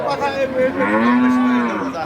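A dairy cow moos in one long, loud, drawn-out call at a Saturday village cattle market, close by and clear, with no talk over it.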